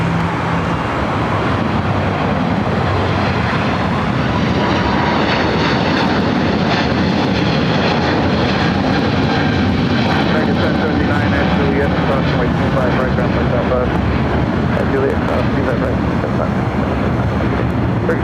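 A Southwest airliner landing on runway 25 left at Los Angeles LAX airport: a loud, sustained jet engine roar rolls on steadily, with a voice speaking over it.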